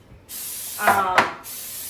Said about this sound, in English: okay, I'm gonna spray my pans